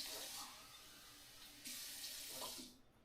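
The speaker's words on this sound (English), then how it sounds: "pour water into a cup." Water pours into a cup in two bursts, a bright splashing rush that stops, then resumes before trailing off, close up with no talk.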